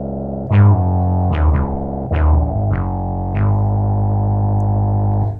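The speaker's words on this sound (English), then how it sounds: "they have included in their LFO, it goes into the audio range, so you can do these incredible distortion effects using it" A Moog Minitaur analog synth plays sustained low notes made harsh and gritty as its LFO, pushed into the audio range, modulates the oscillator, with several plucky attacks and shifting tones, loud and alone.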